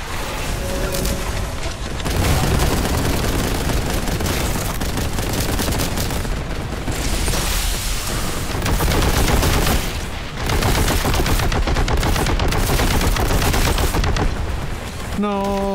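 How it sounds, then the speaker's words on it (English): Kraken bolt gun firing in the video game Warhammer 40K: Boltgun, heavy rapid shots and booming impacts pounding almost without break for about sixteen seconds, loud and dense, with a short drop near the ten-second mark. "I love the Kraken bolt gun"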